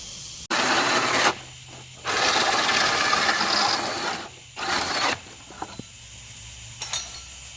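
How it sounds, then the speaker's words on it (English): A power drill whirs in several bursts of varying length with short pauses between, loud and close, drilling a hole through a wood board, with some rattling toward the end. "So go ahead and get that hole drilled now."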